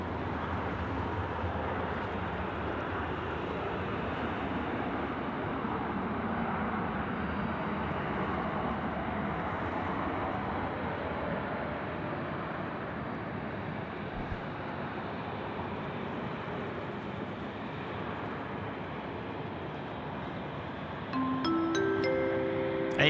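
An airliner rolls for takeoff on runway 34 right at Sydney Airport, its jet roar a steady, broad rumble held for the whole stretch, loud and continuous, with a brief brighter tonal rise near the end.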